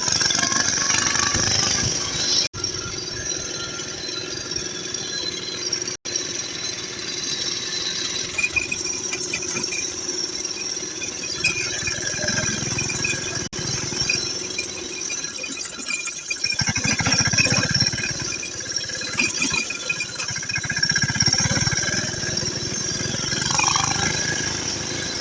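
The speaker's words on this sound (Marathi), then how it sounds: "तर चला आता टाकूया तिसरा गेअर आणि जाऊया थेट शेतात." A small tractor engine runs steadily in third gear on the way to a farm field, a continuous rattling drone with rough mechanical clatter, fairly loud and close throughout with no talk.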